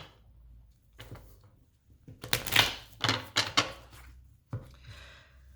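Tarot cards shuffled and drawn at close range, with a run of quick crisp clatters and flicks in the middle and a last sharp snap near the end, otherwise quiet with no talking.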